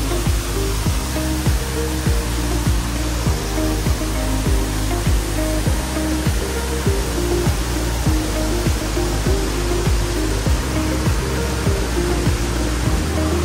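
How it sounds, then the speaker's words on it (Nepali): A forest stream spills down as a waterfall, making a loud, constant rushing roar of falling water close by that continues unbroken throughout. "यहीँको खोला बगेर झर्ना बनेको हो।"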